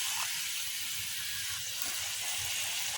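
Paşa börek pastries frying in hot oil in a pan, giving a steady, close sizzling hiss with a soft bubbling crackle throughout and no talking.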